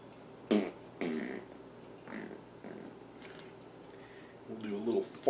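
Peanut butter squeezed out of an MRE packet makes a few short wet squelching bursts, with a final sputtering squeeze at the end, and a person talks between them.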